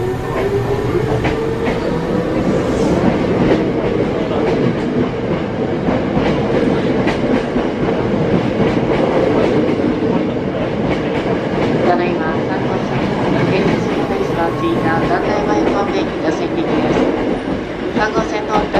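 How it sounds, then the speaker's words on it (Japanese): Hankyu 7300 series train (7320F), a local service to Takatsuki-shi, departing track 2 at Awaji station: loud, close rumble and rhythmic wheel clatter that runs steadily throughout, with faint platform announcements mixed in. "日本線側電車が発車します。"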